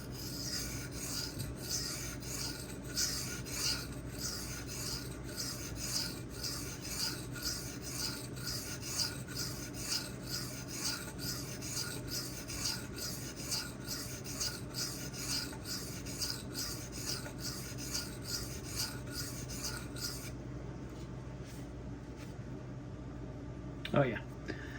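A ZDP-189 or Magnacut steel knife drawn across a Suehiro Debado whetstone in steady back-and-forth rasping strokes, close and rhythmic, ending with a brief pause and a single sharp scrape.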